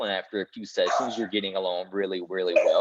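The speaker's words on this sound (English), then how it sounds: "sorry about the dogs" Dogs bark and yip in the background beneath continuous close speech, their sharp calls partly masked by the talking voice.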